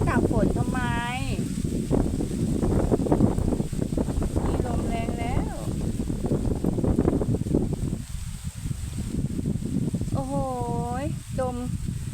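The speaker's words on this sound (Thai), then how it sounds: "อุ้ยลมแรงอะ ลมแรงแล้ว ลมแรงแล้ว" Strong wind buffets the microphone with a constant rumbling roar beside rice fields while a voice speaks intermittently over it in Thai.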